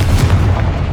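A Confringo blasting spell in Hogwarts Legacy erupts as one short, loud, booming explosion with a deep rumbling body.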